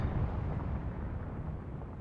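Artillery shells burst among troops in the wartime tactics game Graviteam Tactics, a deep, distant rumbling boom that rolls on and slowly fades over two seconds.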